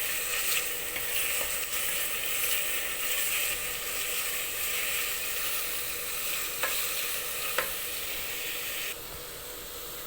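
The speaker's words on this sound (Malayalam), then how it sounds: "പിന്നെ ഈ സവാള ഒന്ന് മീഡിയം ഗോൾഡൻ ബ്രൗൺ ആകുന്നത് വരെ നമുക്കിത് ഇളക്കി കൊടുക്കാം." Onions frying with ginger and garlic in a pan for a Kerala-style chicken roast, a steady loud sizzle and hiss with occasional scraping stir strokes throughout.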